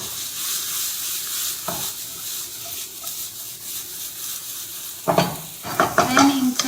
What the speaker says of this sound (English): I'm going in with the finely diced onion, ginger, garlic and chili, and we're going to fry that off for a couple minutes.